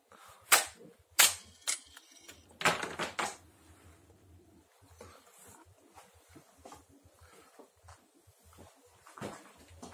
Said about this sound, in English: I just shot some rounds